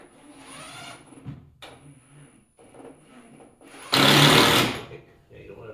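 A power drill working into LP SmartSide window trim, the bit pulled back out to clear material, gives one loud burst of close whirring and grinding after a stretch of quieter rubbing and scraping. Voices talk around it.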